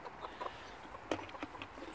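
A white chicken gives a few soft, scattered clucks in a farmyard, faint and brief over quiet background noise.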